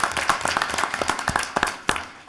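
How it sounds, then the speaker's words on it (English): Scattered clapping from a small audience at a school board of education meeting, a few hands beating in an uneven rhythm for about two seconds before it tapers off. "just a round of applause for them"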